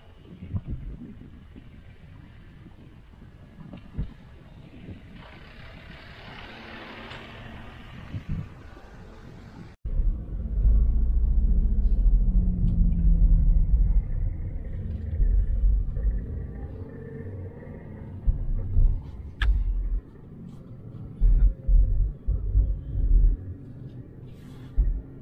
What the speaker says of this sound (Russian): звучит как литровая трехцилиндровая машина